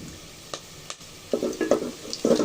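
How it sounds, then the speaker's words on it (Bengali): A low sizzle of onions with cardamom, cinnamon, bay leaves and cloves frying in oil, with a couple of sharp spoon clicks, then louder bursts of stirring and crackling toward the end. "পেঁয়াজটা ভেজে নিব পেঁয়াজটা ভাজার সময় দিয়ে দিব আস্তা আস্ত কিছু গরম মশলা"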